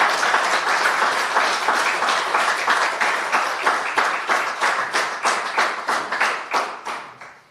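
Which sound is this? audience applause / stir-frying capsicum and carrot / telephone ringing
audience applause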